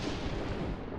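A single gunshot in the video game Deadly Premonition, a short heavy report with a booming tail that fades away within about a second.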